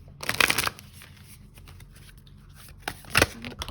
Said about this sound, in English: let's grab one final card for about Chungha's 2021